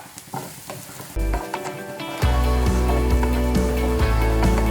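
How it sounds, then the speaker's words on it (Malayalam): Onions frying with curry leaves in a hot pan, crackling and sizzling loudly while being stirred, with the sizzle and scraping growing stronger partway through. "ഇനി ഉള്ളി നന്നായിട്ടൊന്ന് മൂപ്പിച്ചെടുക്കാം ഇളക്കി കൊടുക്കാം കേട്ടോ"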